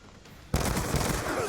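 Loud automatic gunfire bursts erupt abruptly in a Black Ops 2 online match, a dense rattling volley after a quieter lead-in.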